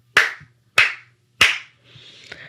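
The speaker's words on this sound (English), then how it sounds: "I'm actually going to clap 3 times" Three sharp hand claps, evenly spaced about two thirds of a second apart, ring out alone against near silence over a faint low hum, followed by a soft rustle.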